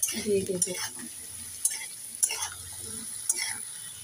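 Fried potatoes being stirred with salt in a pan for Bengali aloo posto, a spoon scraping and turning them through a steady close sizzle, with a few sharper clinks against the pan.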